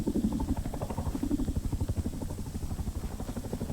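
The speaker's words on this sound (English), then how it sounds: "you want to get shot by a helicopter?" Helicopter in the video game Rust, a steady rapid rotor chop thudding at a moderate distance, fairly faint and continuous with no talking.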